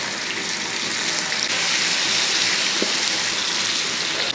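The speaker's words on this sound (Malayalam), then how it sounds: "ഇപ്പോൾ 2 ട്രിപ്പിന് അത് വറുത്തെടുക്കാം." Chicken pieces frying in hot oil in a kadai, a continuous dense crackling sizzle holding steady throughout, close and fairly loud with no talking.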